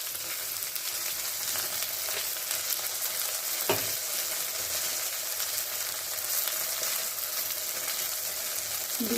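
Panch phoron spices frying in hot oil for Bengali eggplant kalonji, a loud, steady crackling sizzle lasting throughout with a brief stir partway through.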